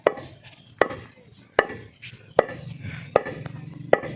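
Dried shukto leaves pounded into powder, sharp rhythmic thuds repeating about every 0.8 seconds, six strikes in all, close and fairly loud with no talk.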